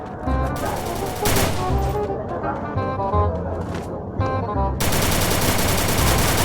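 Gunfire in the mobile battle game Free Fire, loud sustained automatic bursts, close and dense, running almost without pause through the clip, with game music and effects layered underneath.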